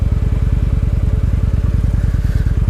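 Highballer noise bike's motorcycle engine, loud and close, chugging in a fast, even pulse of low firing beats while revving, alone with no talk.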